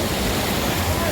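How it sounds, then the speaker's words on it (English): Waterfall in Rivelin Valley, Sheffield, where cliff jumpers gather, roaring as a loud, continuous broadband rush of falling water that fills the whole moment without a break. "Imagine this waterfall, look at this."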